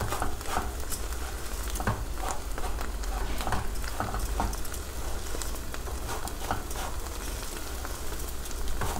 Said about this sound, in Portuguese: Quanto mais fritar o arroz, ele fica mais soltinho.